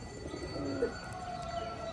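Domestic pigeons in a loft coo softly, a faint low murmur set against a steady background hum with a few higher tonal lines.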